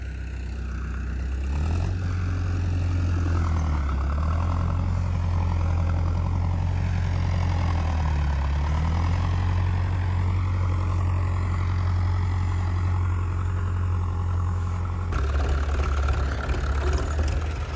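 A John Deere 5405 tractor's diesel engine idles steadily close by, a low continuous throb with a slight dip and rise in pitch midway, running alone without voices.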